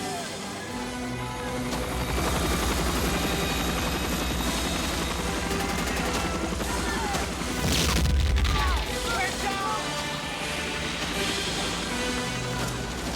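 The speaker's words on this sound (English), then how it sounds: "The helicopter scene is set to Richard Wagner's Ride of the Valkyries." A military helicopter's rotor chops steadily throughout a Vietnam-war-style film battle scene, set to orchestral music, with bursts of gunfire and a crashing impact midway.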